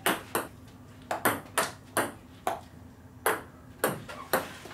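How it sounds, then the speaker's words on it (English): A ping pong ball strikes a paddle covered in weatherstripping about ten times in an irregular rally rhythm. Each hit is a close, soft but distinct knock, with quiet pauses between hits and no talking. "It makes a nice soft sound when you hit the ping pong ball."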